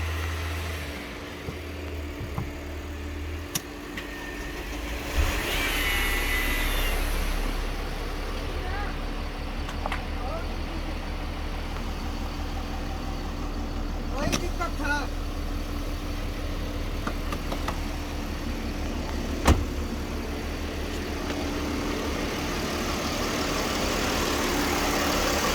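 A 2007 Mercedes ML350 with 80,000 km and rat-chewed wiring cranks and settles into a steady low engine idle for about twenty seconds, with someone talking over it at times.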